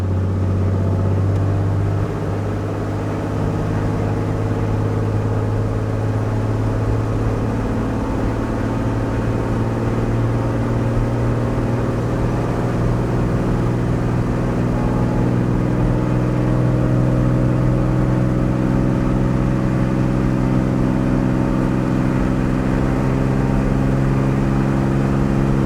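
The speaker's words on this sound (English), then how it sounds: "So I'm going to give it full throttle. Full throttle means maximum power." An aircraft piston engine runs steadily at full throttle, a loud, continuous droning hum with strong low tones, heard close and unbroken throughout with no talk over it.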